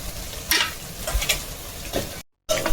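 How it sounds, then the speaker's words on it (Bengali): Homemade biscuits fry gently on low heat, a soft sizzle broken by scraping stir sounds, close and fairly quiet, with a short cut to silence near the end. "তাই জন্য হালকা আঁচত ভাজি করছি"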